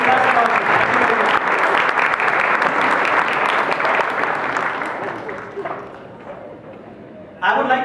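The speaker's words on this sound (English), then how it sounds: "once more a big round of applause for all this decoration" Loud audience applause after a speech at a decoration and costume event, steady for several seconds then thinning toward the end before a brief renewed burst.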